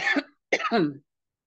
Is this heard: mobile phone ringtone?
no